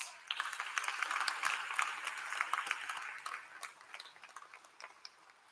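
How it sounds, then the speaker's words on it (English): Graduates applaud at a 2022 OCC commencement ceremony, a faint, steady wash of many hands clapping in a large room that fades gradually toward the end. "give yourselves a round of applause"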